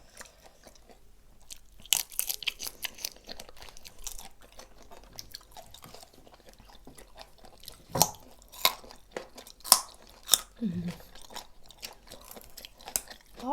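Crispy shrimp coated in salted egg yolk crunch between the teeth in sharp, loud bites, followed by quieter chewing and scattered crackles, close up and with no talking.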